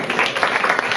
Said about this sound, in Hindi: दिल खोल के ताली